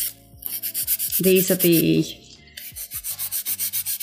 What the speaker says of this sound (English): disposable files that have the replaceable sanding paper on them